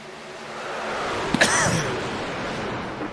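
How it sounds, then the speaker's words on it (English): A single sudden sneeze from a motorsport commentator during a stock-car truck race broadcast, one sharp burst standing out over steady background hum. "Didn't mean to sneeze on air."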